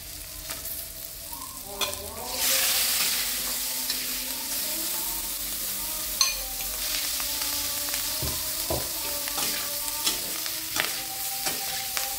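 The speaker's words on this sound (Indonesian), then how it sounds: "Kita mau masukkan cuminya dengan api besar." Steady sizzling of squid stir-frying in hot oil over high heat, with scraping and clinking of a utensil against the pan throughout, no talking.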